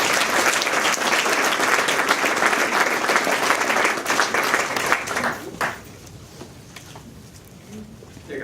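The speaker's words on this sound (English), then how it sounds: "Let's all give them a round of applause." A school assembly crowd applauds the introduced PTSA members at a responsible-in-school award event, a dense, steady roar of clapping for about five seconds that thins out and fades to quiet room noise.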